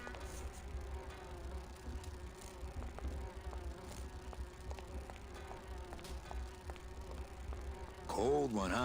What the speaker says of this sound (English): Let's find the bees.